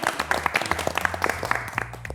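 A small group at an esports team's workshop gathering breaks into brief applause. Quick overlapping claps mix with voices and murmurs, close by and fairly loud, lasting only a couple of seconds.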